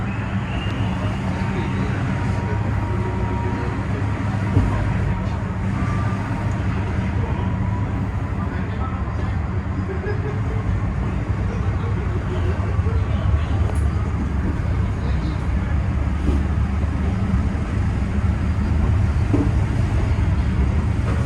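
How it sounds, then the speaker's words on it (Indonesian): Aboard the KA Commuterline Supas commuter train, heard from an economy seat as it leaves Surabaya Gubeng station, a steady low rolling rumble fills the carriage. Faint clatter and a murmur of passengers sit beneath it. "kereta api komuter lain Supas telah meninggalkan stasiun Surabaya Gubeng ya"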